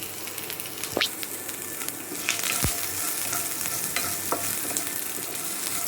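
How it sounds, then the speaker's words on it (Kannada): Onion frying in a pan over low flame, a steady close sizzle with a few scrapes of a spatula stirring it and no talk. "ಇದನ್ನು ಇವಾಗ ಫ್ರೈ ಮಾಡ್ಕೊಳ್ಬೇಕು."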